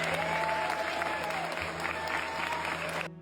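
Dense, continuous applause from a crowd fills the room, steady and fairly loud throughout before cutting off abruptly at the end.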